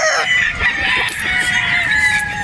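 Boston Roundhead gamecock rooster crowing once, a loud, close, drawn-out cock-a-doodle-doo that trails off over about two seconds.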